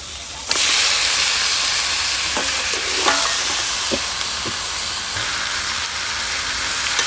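Chicken hits hot fried spice paste with a sudden loud sizzle, then a sustained crackling hiss continues with occasional stirring clinks.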